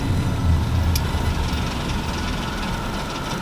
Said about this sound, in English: That sounds like a tensioner with the belt or something that's kicking around